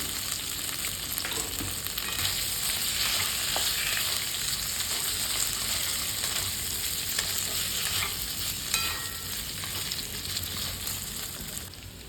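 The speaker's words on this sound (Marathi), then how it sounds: "तेलात फ्राय करून घ्यायचं आहे त्यानंतर आपण हे काप टाकायचे आहेत बटाट्याचे त्यामध्ये" Potato slices fry in hot oil with spices and a paste for fasting dosa, giving a steady, close sizzle with faint stirring clicks throughout and no talk.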